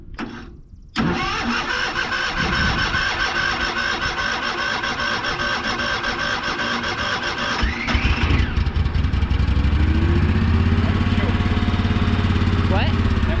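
A restored Cushman Truckster utility vehicle's small engine cranks and catches after about a second, then runs loud and steady before dropping into a lower, rougher idle near the end, with voices talking over it.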